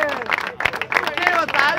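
Audience at a Spanish-language freestyle rap battle claps and cheers in a dense, steady burst, with shouting voices mixed into the crowd noise throughout.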